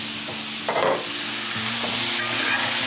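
Shrimp and asparagus with ginger and garlic are tossed in a stir-fry pan, a steady sizzle broken by a few clattering scrapes and shuffles of food against the pan.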